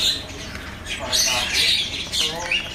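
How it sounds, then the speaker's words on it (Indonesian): A black-billed green leafbird (cucak ijo) squawks and chirps in a bird kiosk, giving bright, loud, close calls in short bursts, with someone talking alongside. "di kios ini ada burung cecek hijau PH ya"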